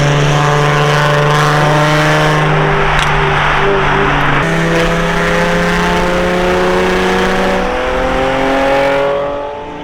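A Nissan Z with a VQ engine and aftermarket exhaust drones loudly and steadily while driving, holding a smooth cruising pitch with one shift partway through, close and continuous.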